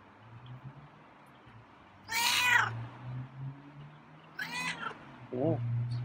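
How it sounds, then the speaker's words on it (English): A tame-leaning feral cat gives a few close, clear meows, with two drawn-out calls and a short, rising chirp-like meow near the end. A soft low hum runs underneath. "Friendly meow there."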